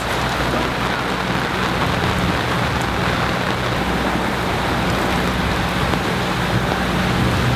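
Steady, heavy rain pours down continuously, a dense wash of patter with a low rumble underneath, with no pauses.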